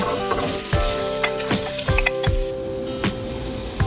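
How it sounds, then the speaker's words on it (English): Vegetables sautéing in a little olive oil for chicken soup, a loud steady sizzle close by with repeated scraping stirs and clinks from a spoon in the pan. "Now I'm going to saute the vegetables for about 5 minutes in a little bit of olive oil."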